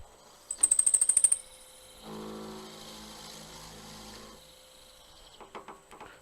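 A short burst of rapid rattling clicks gives way to a steady, mid-pitched power-tool whir lasting about two seconds while drilling a deep hole into wood for a wand, followed by a few faint knocks.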